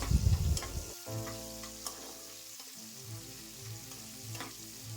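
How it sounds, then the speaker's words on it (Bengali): Chopped onion sizzles and fries steadily in hot oil with tempering spices in a home kitchen pan, with occasional stirring scrapes and no talking. "পেঁয়াজ ফোড়নের সাথে খুব ভালো করে মিশিয়ে নিয়ে ভেজে নেব"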